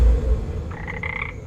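A toad croaks in a Warhammer 40K animation, one short rasping, buzzy croak in two pulses, loud and close over a low rumbling background.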